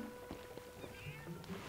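Cat meowing in Zelda: Twilight Princess HD, a couple of faint, short mews under steady game ambience with some background noise and someone talking.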